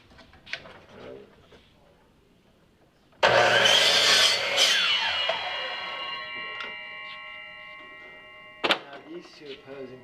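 A wooden frame piece is sawn to cut off a triangular offcut, one loud burst of cutting noise starting abruptly and ringing as it fades, with short knocks and brief talk around it.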